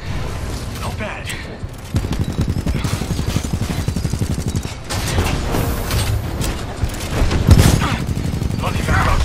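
Gunfire in Titanfall 2 from a combat scene, with rapid bursts of shots and heavy thuds over a dense loud mix, and voices talking over parts of it.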